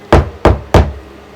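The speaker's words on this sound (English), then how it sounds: "Then he knocked on the door." Three loud, evenly spaced knocks on a door, close by and sharp, each fading quickly into a quiet room.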